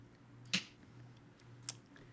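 Two isolated finger snaps standing in for applause, the first sharper and louder, the second quieter about a second later, over a faint steady hum in an otherwise quiet room.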